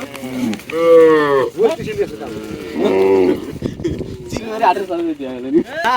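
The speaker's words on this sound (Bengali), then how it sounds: "এত পরিমাণ গরু মনে হচ্ছে কোনো বাজারেও এত গরু ওঠে না" Cattle moo loudly and repeatedly from a large herd of cows grazing freely, long drawn-out lowing calls from several animals close by, overlapping one another.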